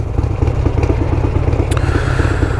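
A motorcycle engine runs steadily and loudly up close, a constant throbbing drone with light rattling clatter over it.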